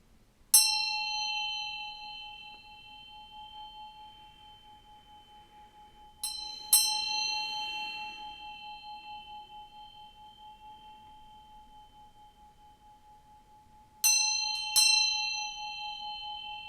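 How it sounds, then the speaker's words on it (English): A resonant bell is struck three times, each bright ring hanging and decaying slowly over several seconds in a quiet room, the second strike followed by a quick double hit. "I'm gonna ring this bell and bring in some good vibes"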